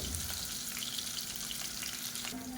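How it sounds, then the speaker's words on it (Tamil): Sliced onions fry in oil for Ambur-style kuska, a soft, steady sizzle and crackle close by with no talk. "வெங்காயம் நல்லா ப்ரௌனாக வதங்கட்டும்."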